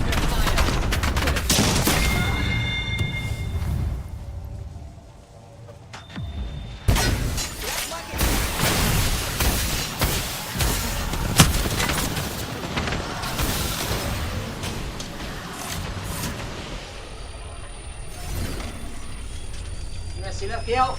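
Apex Legends gunfire rattles in near-continuous loud volleys with sharp impacts and a brief lull partway through, while a player talks over the action.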